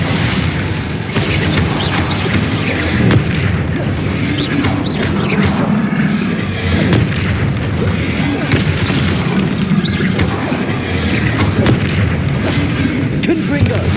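Blasting-spell explosions from Confringo in Hogwarts Legacy boom repeatedly through a dense, continuous combat mix, with heavy low thuds layered under ongoing battle noise and a voice calling out spells.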